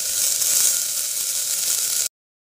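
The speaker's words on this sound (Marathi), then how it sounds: "आणि तेलावर बारीक चिरून कांदो घालायचो" Finely chopped onion hitting hot oil in a pot, giving a steady, bright sizzling hiss that holds evenly for about two seconds and then cuts off abruptly.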